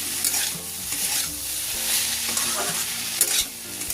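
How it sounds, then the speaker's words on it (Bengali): Spices are fried and stirred with vegetables in a hot pan for a drumstick-flower dish, giving a steady close sizzle with repeated scraping strokes of a spatula and no talking. "এই সব মশলাগুলো সবজির সাথে খুব ভালো করে কষে নেব"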